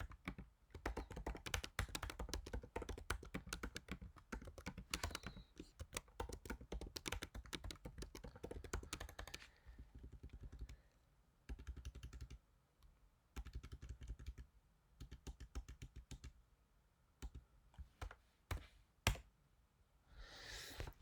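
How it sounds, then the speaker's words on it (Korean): Code is typed on a computer keyboard in rapid bursts of close key clicks, dense at first, then thinning into sparser runs with short pauses. There is no talk. "코드를 한번 타이핑해 보겠습니다."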